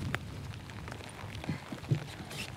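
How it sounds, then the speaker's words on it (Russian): Light rain falling during pike fishing outdoors, a soft patter with scattered closer drops and small bumps, no clear talk over it. "Дождик сейчас."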